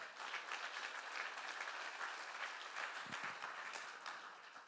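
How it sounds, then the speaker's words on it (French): A church congregation claps at a Sunday service, the applause steady and broad, filling the room evenly throughout without any talk over it. "on peut applaudir le Seigneur"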